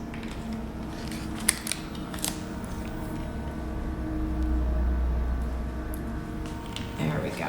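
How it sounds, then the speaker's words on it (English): Scissors trimming the tips off plastic piping bags for decorating cookies, a few short snips and rustles of plastic close by, with a steady low hum underneath. "I'm going to trim my other bags now too."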